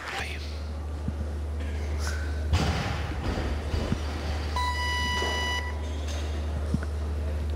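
At the 2008 European Weightlifting Championships, during the women's 53 kg clean and jerk, a referee's electronic signal gives a single steady beep of about a second over arena murmur and a low, constant hum.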